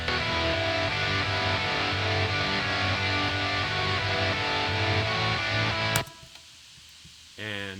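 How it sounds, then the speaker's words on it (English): Dense, layered distorted pop punk guitars play a thick, sustained full-band part for about six seconds, then cut off abruptly, leaving a brief quiet tail and a short faint return. "I'll let you hear what all the guitars sound like together."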